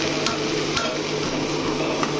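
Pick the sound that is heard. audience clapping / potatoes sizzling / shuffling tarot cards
potatoes sizzling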